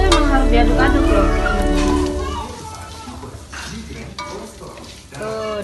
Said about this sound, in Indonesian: Ini kalau goreng teri itu emang harus diaduk-aduk loh.